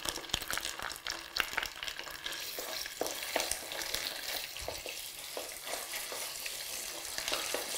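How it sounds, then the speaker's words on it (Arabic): Tomato paste frying in oil with constant stirring, a close crackling sizzle broken by repeated scraping and clicking of a utensil against the pan, with no talking. "ونقليوها فك الزيت."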